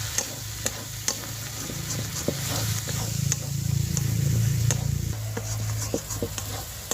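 Spices with Kashmiri chilli powder sautéing in a pan, a continuous sizzle with repeated stirring scrapes and taps, swelling louder midway before settling.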